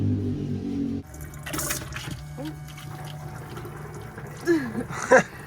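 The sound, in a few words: water pump filling grey water tank in micro camper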